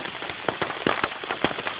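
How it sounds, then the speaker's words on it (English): Rain drumming on a tight tarp shelter during an outdoor camping trip in the Lakeland fells: a dense patter of drops with sharper individual hits scattered throughout, steady and close. "the rain is literally drumming down on it, which is one unintended consequence I didn't anticipate"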